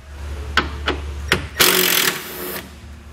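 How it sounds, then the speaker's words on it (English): Grille bolts come out of a 2009 Ford Escape under the open hood using a 10 millimeter socket: three sharp separate clicks, then a short, louder ratcheting burst lasting about a second, heard close up. "There's two bolts that we're going to take out of the top of our grill using a 10 millimeter socket."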